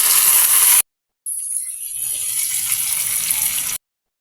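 Water is poured into a pot of pork sinigang, a loud gushing stream that cuts off abruptly, pauses for a moment, then returns as a steady pour for a few seconds before stopping.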